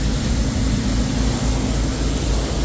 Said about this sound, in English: I apologize about the wind